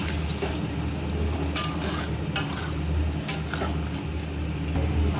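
Water poured into a pan of pointed gourd frying in oil sets off a steady, close hiss of sizzling, punctuated by a few sharp clinks of a utensil against the pan.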